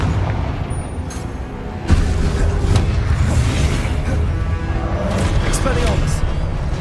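Confringo explosion spells cast in Hogwarts Legacy, repeated booming blasts over dense noisy combat, one sharp hit near two seconds, with a voice shouting spell names throughout.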